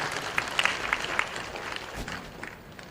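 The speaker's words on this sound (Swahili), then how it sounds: "Kwa kweli tumeona, tuwapigie makofi." Audience applause at a Tanzanian government e-government work session, scattered clapping from a crowded hall, moderately loud and fairly brief.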